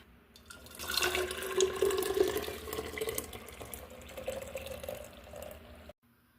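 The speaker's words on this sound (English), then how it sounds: "I will pour this in the glass and just let it sit." Hot homemade grape jelly pours into a glass with a continuous liquid splash and trickle, loudest early and then settling into a softer steady flow before cutting off, with no voices.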